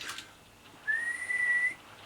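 A steady whistled tone into a Midland CB radio during a power test, held for nearly a second after a brief lead-in noise, clear and fairly loud against a quiet background.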